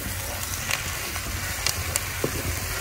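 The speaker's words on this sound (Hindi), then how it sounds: "प्याज दिखाते हैं आपको, 3 मिनट हो चुके हैं प्याज को फ्राई होते हुए" Onions frying in a pan for a bitter gourd sabzi, giving a steady low sizzle with faint crackles and a few soft spoon clicks, close and continuous with no talking.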